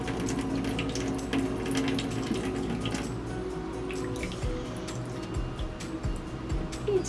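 Water for a cockatiel's bird bath runs and splashes steadily, a constant trickling wash with small drips and splashes, moderately loud and close, no talking.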